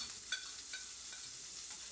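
Onions and chopped garlic sautéing with a marinade in a pan, a constant even sizzle with faint light scrapes of stirring, close up and without any voices.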